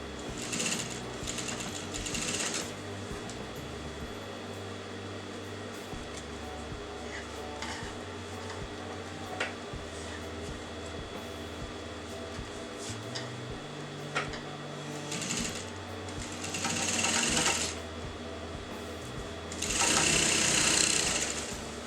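A sewing machine stitches a curved neckline in steady mechanical runs, its motor whirring and needle chattering continuously with brief pitch changes and pauses, close and fairly loud throughout.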